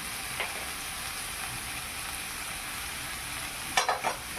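Pieces of giant taro (maan kochu), seasoned with salt and turmeric, frying in a wok with a constant close sizzle, a couple of sharp stirring scrapes near the end, no voices.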